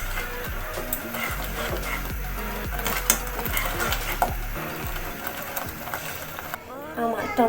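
Homemade hot tomato sauce bubbles and sizzles in a pan on the stove while being stirred, a soft steady crackle running under background music throughout.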